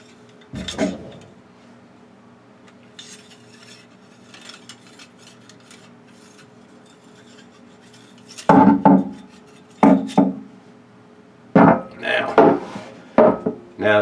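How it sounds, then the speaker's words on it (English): An air rifle rod is unscrewed from the breech of a Hatsan Blitz .30 caliber, with scattered metallic scrapes and clinks in short bursts separated by quiet pauses, close and fairly loud. "I'm going to take it and unscrew this rod."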